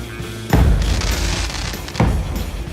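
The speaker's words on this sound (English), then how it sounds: "So when you load a firework into a cannon, it now has a little fuse and there's a little timer" In Sea of Thieves, fireworks launch from a ship's cannon: two sharp, heavy booms about a second and a half apart, each followed by a crackling, hissing tail, loud and close with no talk.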